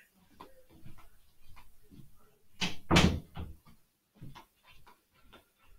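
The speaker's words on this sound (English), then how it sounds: "My dog opened the door." A dog pushes open a door indoors at home: a soft creak and a louder bump near the middle, close and fairly quiet, with faint scuffling around it.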